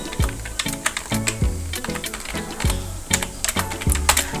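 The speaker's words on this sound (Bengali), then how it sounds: "যেমন ধরেন আমি এখানে ফেসবুক লিখব।" Typing "facebook" on a computer keyboard: a quick run of crisp, close key clicks in an uneven rhythm, each keystroke distinct and fairly loud with no talking.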